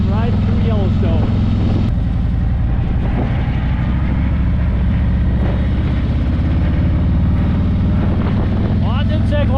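A motorcycle rides through Yellowstone with a loud, steady engine drone and heavy wind rush throughout. A voice is briefly heard near the start and end.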